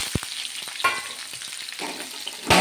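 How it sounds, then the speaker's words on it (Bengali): Onions hitting hot oil already tempered with cumin seeds, fried for a tomato rice dish, giving a close, steady crackling sizzle with a few sharp stirring clatters and a louder burst at the end. "এবার পেঁয়াজটা দেব।"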